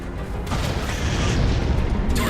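In Halo 4, a railgun fires at a particle cannon with a heavy, roaring boom that fills the whole moment, loud and sustained rather than a single sharp crack.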